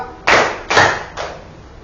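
A fifth-grade class clapping a rhythm pattern together: three crisp, evenly spaced group claps, close and loud, the last slightly softer.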